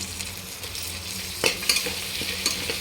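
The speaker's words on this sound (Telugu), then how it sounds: "బాగా ఆనియన్స్ పచ్చిమిర్చి వేగిపోయాయి." Onions and green chilies fry in a pan, a close, continuous sizzle broken by several scraping stirs of a spoon against the metal.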